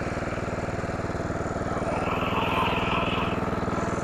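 A Simplicity rear-engine lawnmower that sat unused for 32 years runs with a steady, throbbing small-engine drone close by, its pulsing exhaust beat continuous throughout.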